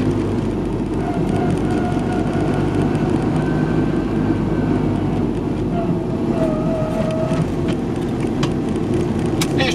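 A small Polski Fiat car drives steadily with a loud, constant engine drone, its pitch shifting as gears change, and a voice talks briefly over the running motor.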